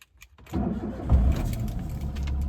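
Suzuki Alto 800 car engine cranking and catching, a brief starter whir followed by a steady idle, close and fairly loud, alone without talk.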